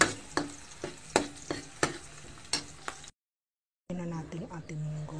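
Garlic and onion are sautéed in a pan for mung bean stew, producing repeated sharp scraping stirs over a sizzling hiss, then a brief silence before a person talks over continued cooking sounds.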